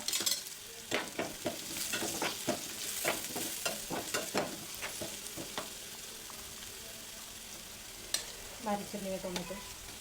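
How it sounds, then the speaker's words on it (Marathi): Onion and curry leaves sauté in a pan for a Maharashtrian matki usal, with a steady sizzle broken by clustered clicks and scrapes of stirring, close and moderately loud, then a brief rising squeal near the end; no voices. "कांदा लवकर परततो आणि पटकन त्याला असं सोनेरी रंग येतो"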